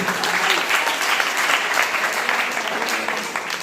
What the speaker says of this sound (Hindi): आप तालियां तो बजानी चाहिए आपको